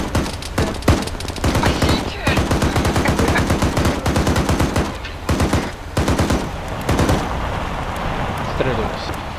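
Bursts of automatic machine gun fire in Arma 3 rattle loudly and close, in rapid repeated volleys with brief gaps, with voices talking over the shooting.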